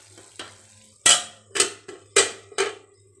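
Potatoes with turmeric, salt, mustard paste and ground green chili being stirred in a pan, giving several distinct clattering scrapes about half a second apart over a soft background sizzle and low hum.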